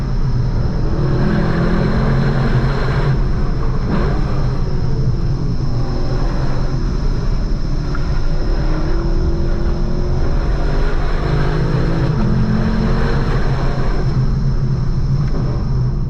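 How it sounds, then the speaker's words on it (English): A 2024 Lexus LC 500 with its V8 engine is heard from inside the cabin while driving, a loud, continuous deep rumble and road roar with steady engine drone and no talking. "It's like driving around in a V8 supercar."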